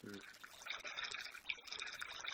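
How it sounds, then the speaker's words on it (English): Water sounds from the Cythera video game: a loud, continuous splashing trickle with bright dripping detail, heard alone. "Water."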